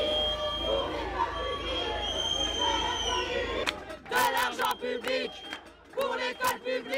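A protest crowd boos a government minister: a dense, loud wash of jeering voices holds steady, then breaks into rhythmic shouted chanting with clear pauses between phrases.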